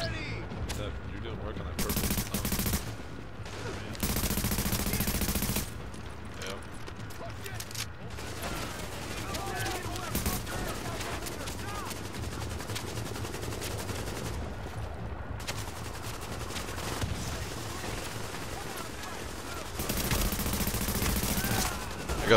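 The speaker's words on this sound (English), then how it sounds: "Are you able to shoot at them while they're shooting at me?" Bursts of automatic and single gunfire crackle through a shooting video game, coming in repeated loud volleys with short lulls between them, while players talk over the action.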